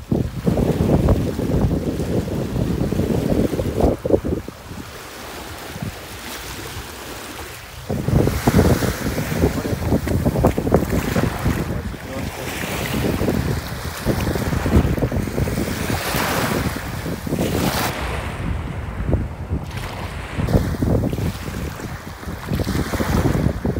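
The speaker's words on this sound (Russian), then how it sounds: "Водичка спокойная, прозрачная. С моря дует ветерок." Sea wind and waves roll onto the Black Sea shore in Sochi on an August evening. The surf rushes in steady surges under a constant wind buffeting the microphone, with a brief quieter lull partway through.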